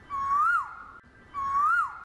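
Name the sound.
Asian koel bird calling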